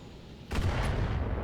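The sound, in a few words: LRM-5 missile fire from a mech in Battletech video game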